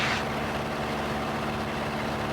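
Aircraft piston engine run up to full power during a ground test, a loud steady broadband roar with a strong low drone, sustained and close throughout.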